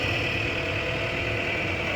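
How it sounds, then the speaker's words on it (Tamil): Vehicle engine drone on a road near Vriddhachalam toward Kumbakonam as traffic comes from the opposite direction, a loud, steady hum with a sustained whine, close and continuous without speech. "ஆப்போசிட்டில் தான் வண்டி வருது."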